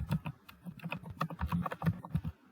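Steady rapid typing on a computer keyboard while entering data into an Excel spreadsheet, a close, continuous patter of key clicks with no talk.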